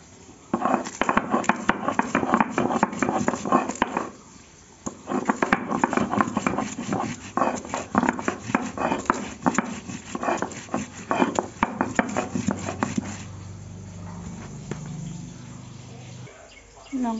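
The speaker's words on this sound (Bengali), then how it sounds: "তো আমি শিল নোড়ায় দেখো লঙ্কা নিয়ে নিয়েছি, তো লঙ্কাগুলোকে এখন বেটে নিব বন্ধুরা" Red chillies are ground on a shil nora, a flat grinding stone with a hand stone, in fast, rhythmic rough scraping strokes. The strokes come close-up in two long runs separated by a brief pause.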